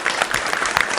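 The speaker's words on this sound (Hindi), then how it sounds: "तालियां कमजोर हैं" A comedy show audience claps for about a second: thin, steady applause close by, with no speech over it.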